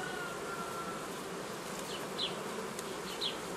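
Honeybees buzz steadily around an open hive of small frames, a dense continuous hum with a few individual bees whizzing close past now and then; no talking.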